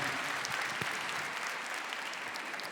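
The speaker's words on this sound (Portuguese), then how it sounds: "Vamos aplaudir esse nosso irmão" A church congregation at a Catholic Mass applauds a man after his testimony, a dense, even wash of many hands clapping at a moderate distance with no voices over it.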